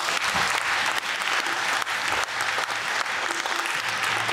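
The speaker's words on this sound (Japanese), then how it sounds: "もう一度長州真田武将隊様に拍手をお願いいたします。" An audience at a festival marking the 500th birth anniversary of a castle lord applauds a samurai warrior stage troupe after their performance. The clapping is loud and sustained, with a few stronger individual claps standing out.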